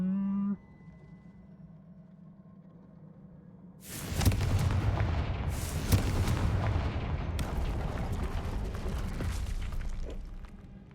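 Confringo spell blast in a Harry Potter video game, going off as a sudden loud, broad roar of rumble and crackling debris that sustains for several seconds after a brief low tone.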